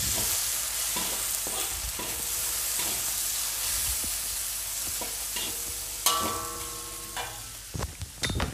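Garlic sautés in a pan beside fishballs, a constant soft sizzle with repeated stirring taps and scrapes, a sharper clatter of utensil against pan near the end, close and unaccompanied by talk.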